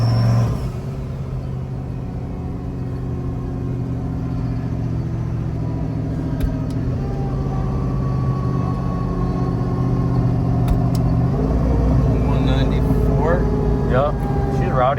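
A Jeep Trackhawk engine pulls hard in second gear toward redline, a loud continuous drone rising in pitch beneath people talking over it.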